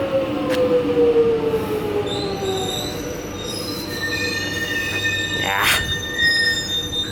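A train rolls past on the rails with high, whining wheel squeal over a steady rumble of cars. A siren-like tone swells near the middle. No one speaks.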